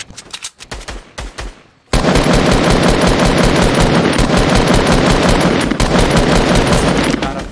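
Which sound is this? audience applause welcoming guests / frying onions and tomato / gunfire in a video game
gunfire in a video game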